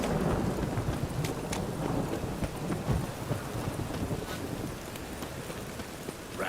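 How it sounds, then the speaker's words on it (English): Steady rain falls with rumbles of thunder rolling through, a full stormy wash of sound without any talking, in the video game The Witcher 3: Wild Hunt. "Rain again."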